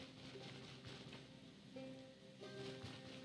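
Rain falls in the video game Stoneshard, a soft continuous patter with a faint musical tone underneath, steady and fairly quiet throughout.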